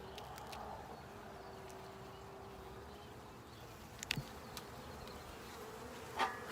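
Honey bees buzz steadily around a hive beside blooming apple trees, a continuous close drone with a few brief knocks and clicks near the end.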